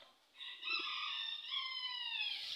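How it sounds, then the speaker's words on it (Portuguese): A single rooster crows once at a moderate distance, a long drawn-out call with no other sounds around it. "Trilha sonora é o galo cantando"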